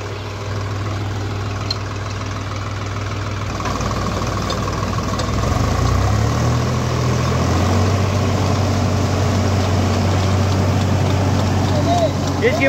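A Sawraj 735 tractor engine runs steadily with a 7-foot Escort rotavator, a continuous loud low drone that shifts and deepens partway through, with a voice speaking over it.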